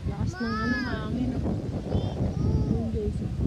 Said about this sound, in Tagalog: Lakas ng ano, hangin.